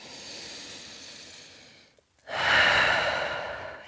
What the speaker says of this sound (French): Grande respiration dans votre chien tête en bas.